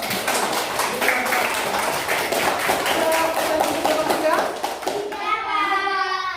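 Classroom applause for a student group: children clap in a fast, dense rhythm close by, with kids talking and calling out over it, then the clapping stops near the end as voices continue.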